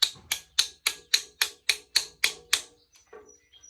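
Ten sharp metallic taps of a hammer on a socket in a steady rhythm, close and crisp, each ringing briefly before the next, then a quiet pause with faint clinks.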